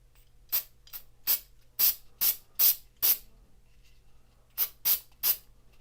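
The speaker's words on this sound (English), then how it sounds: "spray the applicator and see what happens" An applicator sprays sealant onto a 3D-printed Warhammer Omnissian axe in nine sharp, hissing bursts, six in quick succession, then a pause, then three more, close and clear with no talking.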